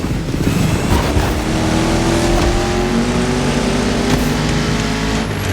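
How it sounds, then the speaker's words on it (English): A 1969 Mustang Boss 429 engine in the video game The Crew Motorfest, loud and roaring, held at high revs, its pitch rising slowly as it accelerates, with a synthetic game-like quality. "You're driving my #1 car, the star of my collection, the 1969 Mustang Boss 429."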